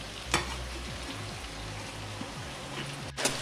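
Whiting fish frying in a pan sizzles steadily and close, with a few sharp clinks and scrapes as the pieces are stirred and turned.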